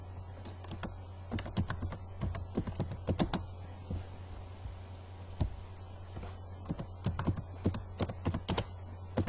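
Quiet, close clicking of keys on a computer keyboard comes in irregular bursts of rapid taps separated by short pauses over a faint background hum.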